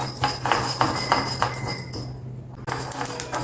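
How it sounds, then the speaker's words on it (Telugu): Mustard and fenugreek seeds crackle and pop steadily as they fry on low heat in a pan, a dense rapid spatter over a low constant hum, briefly thinning before resuming. "ఇవి చక్కగా వేగిపోయినాయండి, చిటపట్లు ఆడుతున్నాయి చూసారా"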